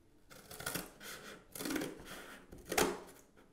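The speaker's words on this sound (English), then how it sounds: "So scissors work perfectly well." Scissors cut down a drawn line on a cardboard box, several faint, rough snipping and crunching strokes in uneven bursts, close but quiet, with no talk.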